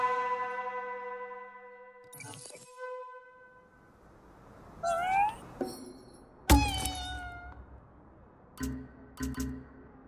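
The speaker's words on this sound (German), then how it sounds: "Das ist eine Katze." A cat meows in the video game Ghostwire: Tokyo, a few short calls rising out of layered game sounds, with thumps and bell-like tones around it and no speech.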